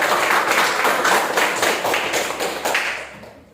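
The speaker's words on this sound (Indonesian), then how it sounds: "Oke, berikan aplaus." Classroom students clapping together in a quick, steady burst of applause that fades out at the end, close and fairly loud.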